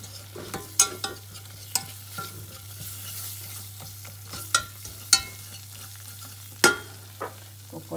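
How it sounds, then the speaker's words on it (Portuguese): Flour and nutmeg are stirred in a hot pan, with soft scraping and sporadic sharp utensil clicks over a faint low hum, close by and with no talking. "Então vamos mexer para juntar depois o leite."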